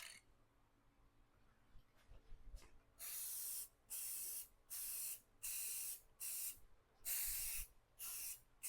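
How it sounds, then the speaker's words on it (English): Repeated short bursts of spray-can hiss, about eight in a row with brief pauses between, loud and close, after a quiet start. "I'm going to do the same thing where I spray it"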